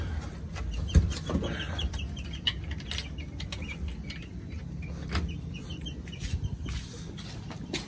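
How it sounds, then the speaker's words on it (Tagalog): Darag hens cluck and murmur softly in short bursts, with occasional rustling and wing flaps, close by against a steady outdoor background. "binili kong inahin na darag na 2 piraso"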